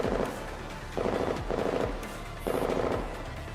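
Rapid bursts of automatic gunfire in the video game Girls' Frontline, three separate volleys over a constant low background rumble, loud and close with no voices.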